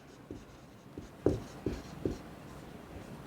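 A pen writes on paper during a Hindi class 10 geometry lesson, giving a few short, soft scratching strokes at an uneven pace, close by and quiet, with no talk over them.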